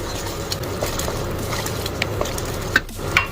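A spoon scrapes and stirs jaggery, mawa and crushed dry fruits together in a pan, producing a steady sizzling, grainy churn with a few sharper clinks near the end.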